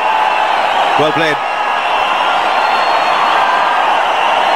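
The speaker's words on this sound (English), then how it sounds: "The crowd's going absolutely bozo here. They're loving this performance. Particularly noisy." A noisy cricket stadium crowd roars continuously through a one-day international, a dense wall of cheering that stays loud the whole time, with a short commentator's remark heard briefly over it near the start.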